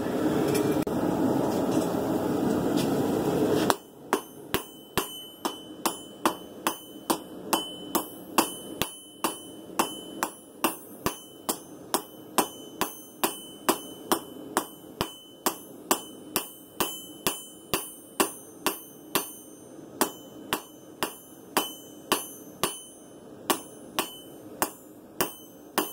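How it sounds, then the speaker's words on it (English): A steel blade is being forged under a steady rhythmic run of ringing hammer blows, dozens of sharp metallic clangs roughly every half second. They start after a few seconds of roaring forge noise and continue close and loud with no speech. "A little hammer smack, a little 2x4 pop."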